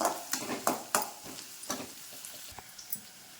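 Crushed garlic cloves sauté in hot oil, a soft sizzle broken by several sharp scrapes and stirs of a spoon against the pan, close and fairly quiet.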